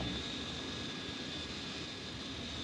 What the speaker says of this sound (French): Vous verrez l'avion même de Guillaumet, piloté par Guillaumet, filmé par le cinéaste Bru lors d'une traversée des Andes